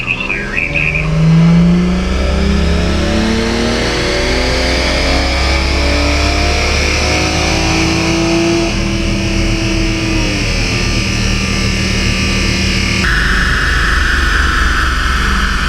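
A car with a stock turbo and high-pressure fuel pump roars through a dyno power run, engine pitch climbing steadily under heavy load for many seconds, loud and close with turbo whine on top.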